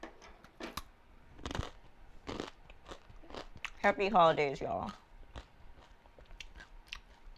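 Takis rolled tortilla chips are munched up close in sharp bursts of crunching and chewing, with a short spoken greeting in the middle.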